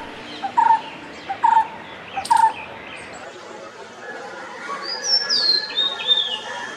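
Birds singing: three short repeated chirps in an evenly spaced series, followed by brighter rising whistled notes, fairly clear against a quiet, soft background.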